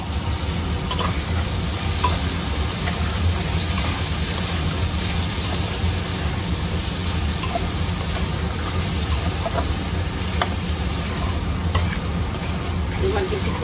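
Chicken and potatoes fry in a pan for a homestyle Bengali desi chicken curry, giving a steady, close, continuous sizzle with occasional stirring scrapes and no talk.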